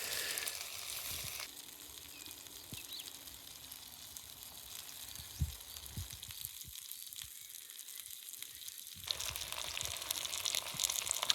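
Burgers sizzling on a small Firebox stove outdoors, a soft steady frying hiss with occasional pops and light clinks, fairly faint throughout.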